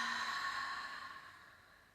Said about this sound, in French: J'expire, je relâche.